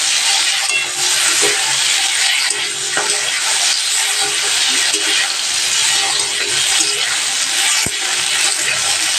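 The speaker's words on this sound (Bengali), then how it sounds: "ডিম ভাজার মধ্যেও আমি কিচ্ছু দিব না মশলা, শুধু কটা কাঁচা লঙ্কা চিড়ে রাখা দিয়ে দিলাম।" Egg frying in hot oil with slit green chilies, a loud, constant crackling sizzle that fills the whole stretch, with a few sharp spatters and pops.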